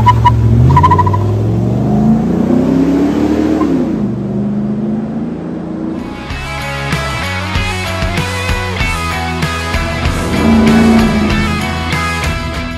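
Holden VN Commodore's fuel-injected 5 litre V8 revving up and down, a loud close engine note rising and falling before giving way to busier, rhythmic sound.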